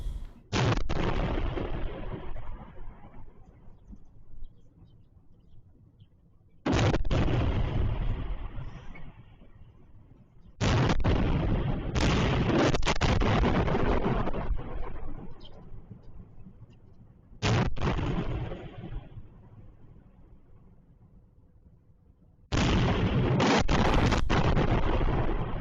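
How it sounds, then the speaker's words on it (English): A series of heavy explosions from strikes on an airfield in Melitopol, beyond a line of trees during the war in Ukraine. There are about six sudden loud booms, each followed by a long rumbling decay, spaced a few seconds apart. "You can see the explosions on the other side of the trees"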